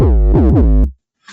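A distorted drum and bass bassline pushed through a non-linear filter with its drive raised in saturate mode. It plays as a loud, buzzy, gliding bass phrase that cuts off abruptly, followed by a brief faint tail.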